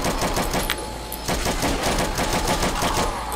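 Sustained automatic machine gun fire from a zombies video game with Rambo-style weapons, loud and rapid bursts repeating steadily throughout with no pause.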